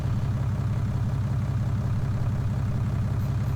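A tractor idles in Farming Simulator 19, a low, steady rumbling chug with an even pulsing rhythm, moderately loud and unbroken by voices.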